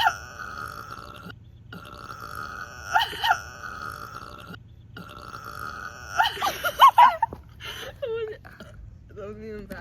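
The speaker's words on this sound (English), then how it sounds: "already lost my first burp." Long, deep, rumbling burps after chugging Sprite, loud and close, drawn out for several seconds with short breaks, then followed by a few groaning vocal sounds.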